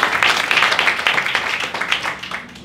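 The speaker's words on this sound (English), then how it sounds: "give a round of applause to Mr." A lecture-hall audience gives a round of applause, a dense patter of many hands clapping steadily for a few seconds and tapering slightly at the end.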